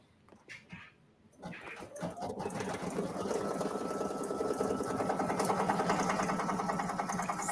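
An embroidery machine stitches the outline of a child's in-the-hoop turkey mask: after a quiet, shuffling start, a steady, rapid mechanical chatter takes over and runs loud and even to the end.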